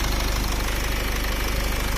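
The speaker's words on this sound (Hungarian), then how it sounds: "Itt a 150 lovas dízelmotorunk." A Nissan Qashqai 2.0 dCi 150 hp diesel engine idles close by with the bonnet open, a loud steady clattering diesel rumble with a fast even knock.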